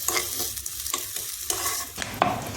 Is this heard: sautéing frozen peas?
yes